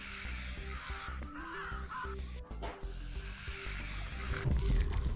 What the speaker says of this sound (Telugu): కొన్నిసార్లు కాకులు వస్తుంటాయి